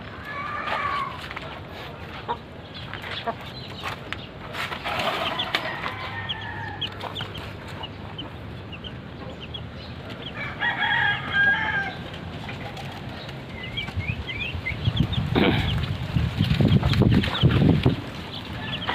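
Chickens and chicks on a chicken farm cluck and peep in scattered bursts at moderate distance, over steady background noise with some rumbling and a voice speaking quietly in places.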